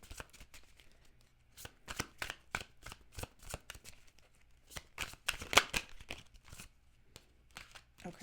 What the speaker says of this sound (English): Just going to pull 3 cards.